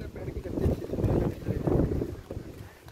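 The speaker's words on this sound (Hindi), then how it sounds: "ठंडा ठंडा हवा चल रहा है" A cool evening wind gusts across the microphone near a highway, producing low rumbling buffeting that swells and fades in waves, with faint voices underneath.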